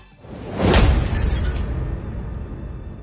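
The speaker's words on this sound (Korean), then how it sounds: "시네마틱 우쉬 사운드 이펙트를 볼까요?" Cinematic whoosh sound effect: a sharp rushing burst near the start with a shattering, breaking texture, then a long loud rumbling tail that slowly fades over a few seconds, alone with no voices.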